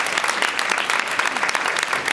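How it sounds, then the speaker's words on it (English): A room of attendees at a school board of education meeting claps together, a brisk, moderately loud round of applause that lasts a couple of seconds with no speech over it. "We'll give him a round of applause for that."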